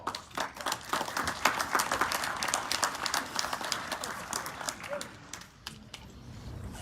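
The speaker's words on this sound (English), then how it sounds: "I want us all to give them a round of applause" An audience at an awards ceremony applauds with dense, steady clapping that continues for several seconds and gradually thins toward the end.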